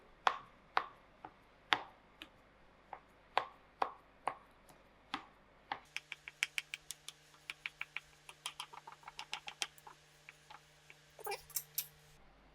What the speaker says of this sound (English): I'm using a fork, creating small holes so you can bake through